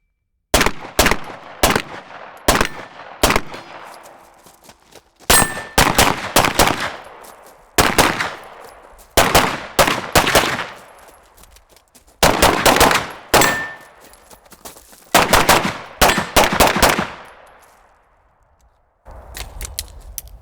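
Rapid strings of 124-grain pistol shots from a Stealth Arms Platypus 1911 during practical USPSA-style shooting, loud sharp cracks in quick bursts of several shots with short pauses between strings.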